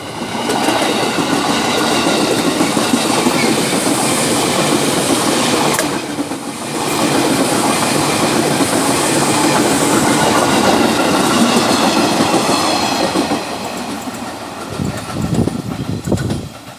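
A KRL commuter electric train passes on straight double track east of Citeras station on the Rangkasbitung line, with a loud continuous rumble and clickety-clack of wheels. It dips briefly midway and ends with a louder burst near the close.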